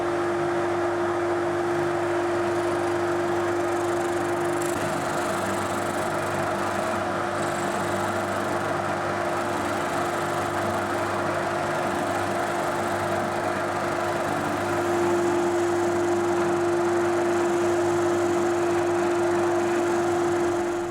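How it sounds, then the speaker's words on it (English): A spindle sander runs steadily while shaping the wooden neck of a Stratocaster guitar, a constant motor hum with a strong pitched whine and grinding wood contact, loud and close throughout with no talk. "So I've got as close as I could with the spindle sander."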